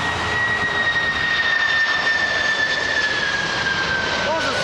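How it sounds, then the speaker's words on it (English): A MiG-17 jet on a low approach at Toronto Pearson gives a loud, continuous engine roar with a high piercing whine, filling the whole stretch without letup. "Those are some screaming engines."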